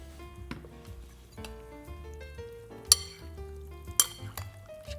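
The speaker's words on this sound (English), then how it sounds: "Give that a light toss just to coat it." Vegetables tossed with vinaigrette for a chuck roast meal with citrus carrots: soft shuffling and stirring against a bowl, with two bright clinks of utensil on dish standing out, quiet and close.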